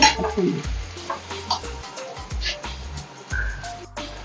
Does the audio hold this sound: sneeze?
no